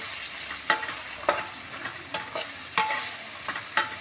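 Spices such as salt, chili and turmeric frying in a pan for a drumstick vegetable dish, a soft continuous sizzle punctuated by a half-dozen sharp spatula scrapes at irregular intervals.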